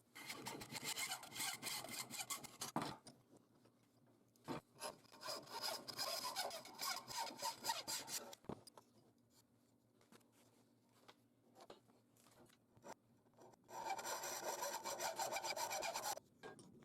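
A hand saw cuts through a knife blank along a marked line in steady, rasping back-and-forth strokes, close and fairly quiet, with pauses between bursts of sawing.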